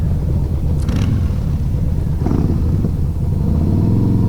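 Harley-Davidson Fat Boy motorcycle engine running close by, a deep, loud, continuous low rumble with slight throttle swells and faint clatter, no talk over it.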